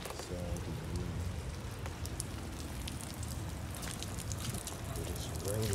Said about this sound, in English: But it's raining, it's been raining.